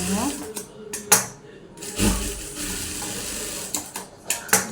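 A sewing machine running a double line of stitching on a blouse comes in several short mechanical bursts with pauses between, close by and fairly quiet.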